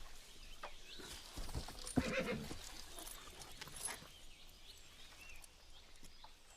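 A horse whinnies loudly once nearby, followed by quieter hoof clip-clops and faint rustling, with no one speaking.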